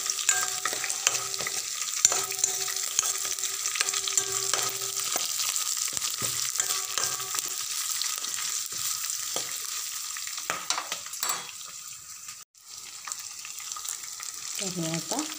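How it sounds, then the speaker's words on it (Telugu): Green chillies and onions fry and sizzle in a pan for a Rayalaseema-style upma, with a steady close hiss and intermittent scraping stirs, no talking. "పచ్చిమిర్చి తర్వాత ఎర్రగడ్డలు, ఇవి బాగా కొద్దిసేపు వేగనివ్వాలి."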